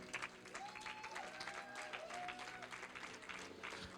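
A church congregation applauds to acclaim Jesus, a continuous crowd of clapping with a voice and held musical tones carrying faintly underneath.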